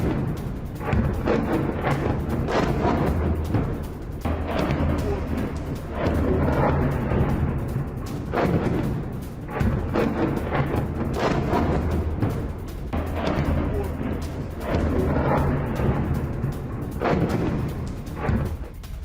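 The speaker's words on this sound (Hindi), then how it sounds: "आर्टिलरी से वोलेदार पर कई घंटे तक प्रहार हुआ है" Russian artillery fire and explosions pound Vuhledar, a series of heavy booms and rumbling blasts recurring every few seconds, loud and sustained over a constant low roar.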